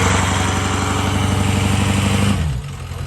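A worn-out truck engine lugs under load, a loud, low, rhythmic chugging that holds steady and then drops off and sputters near the end, close up with no talk.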